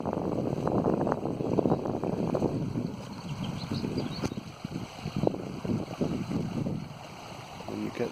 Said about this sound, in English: And you get this really relaxing sound of running water.